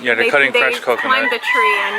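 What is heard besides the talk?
roosters crowing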